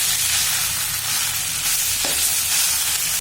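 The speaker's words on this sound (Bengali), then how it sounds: "এইভাবে একটু নাড়াচাড়া করে নিতে হবে" Fried potatoes and carrots with spices are stirred in a hot pan, giving a continuous close sizzle with a brief scrape of the spoon midway and no talking.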